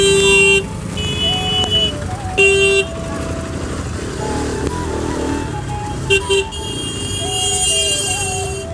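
Car horns in a congested roadside traffic jam toot repeatedly in short and sustained blasts, layered over a steady rumble of engines and motorcycles, loud and close.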